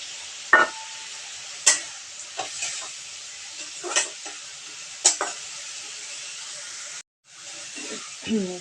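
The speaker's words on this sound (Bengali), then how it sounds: "চিংড়ির শুকনো মাছগুলো দিয়ে একটু নাড়াচাড়া করে নেব" Dried shrimp being stirred into spiced potatoes in a hot pan: a steady sizzle runs under repeated scraping strokes of a spoon, with brief louder clatters, near and fairly quiet.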